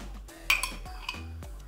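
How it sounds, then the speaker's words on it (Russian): A spoon stirs a chicken cutlet sauce with tomato paste in a bowl, giving a few quick metallic clinks and scrapes up close. "Все хорошо размешиваем."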